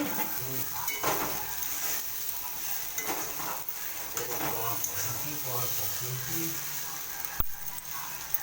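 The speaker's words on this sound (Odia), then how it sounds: "ଏଇଠି ମୋର ଭଜା ବସିଛି।" Vegetables fry in a pan in a home kitchen, a steady sizzle with stirring and rattling of utensils against the pan, and a voice talks over it at times.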